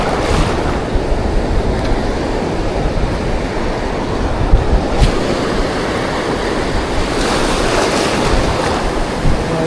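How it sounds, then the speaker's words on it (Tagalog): Rough sea after Typhoon Opong roars steadily close by, a dense wash of breaking waves with gusty wind buffeting the microphone and a few louder surges. "Maalon dito ngayon sa ating spot."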